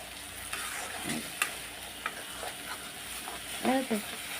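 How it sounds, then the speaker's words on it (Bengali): Spices with turmeric and Kashmiri chili powder stirred and fried in a pan, a steady sizzle under scattered scraping strokes of a spatula, close and moderately loud, with no voices. "এখন আমি নাড়াচাড়া দিয়ে দেবো মশলাটা কষিয়ে নেবো ভালো করে"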